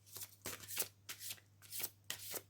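Oracle cards being shuffled for a full moon reading, quick soft riffling bursts in a loose rhythm over a faint steady hum, close and quiet, no voices.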